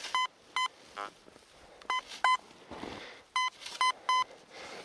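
A metal detector sweeping over a strong target in deep snow gives short, sharp electronic beeps in uneven bursts, some paired and some single, with faint crunching and rustling between them; no one speaks.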